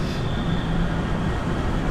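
Steady rumbling rattle of an old Thai third-class night train carriage from inside, windows open, broadband and continuous with a faint whine.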